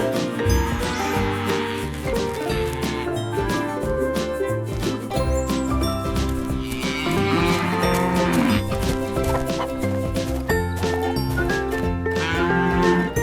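Cow lowing repeatedly while harnessed by rope to a small wooden cart, loud and close over a steady background of jingling, tinkling tones.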